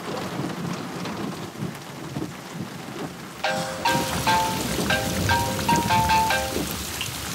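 Heavy rain pours steadily with rumbling thunder, the downpour growing louder partway through as bright tonal chimes or beeps sound over it.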